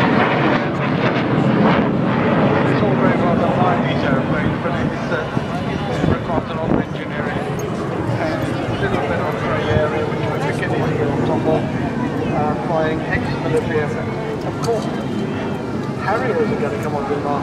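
Hawker Hunter jet flying at a seaside airshow in 2011, a loud, continuous roar of jet engine noise mixed with wind buffeting, sustained at steady volume throughout, with a commentator's voice over the public address underneath.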